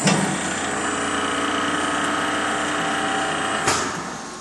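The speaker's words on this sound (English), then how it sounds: "Lower drill bit's coming up, and then the upper drill bit should come down." An Atwood ITGD1200 glass drilling machine hums and whirs steadily at close range, with a brief louder clunk near the end as the lower drill bit rises and the upper bit lowers.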